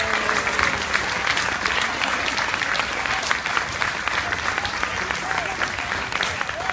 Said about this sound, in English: Give our 4th graders one more big round of applause for their work tonight.